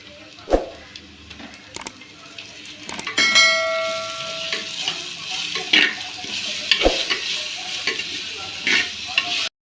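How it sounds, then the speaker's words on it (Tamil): Ginger-garlic paste being sautéed with browned onions in a clay pot, with a steady sizzle and repeated scraping strokes of a spoon, plus a few sharp metallic clinks, close up with no talking. "பூண்டு பேஸ்ட் பச்சை வாசனை போகிற வரைக்கும் வதக்கியாச்சு"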